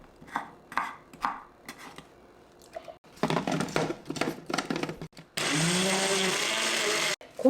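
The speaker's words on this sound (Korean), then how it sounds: "이제 과일을 갈아보도록 하겠습니다" An electric blender grinding fruit for a bulgogi marinade, preceded by scattered kitchen clatter and handling noise, then a loud steady motor whir starting abruptly and running for about two seconds before cutting off.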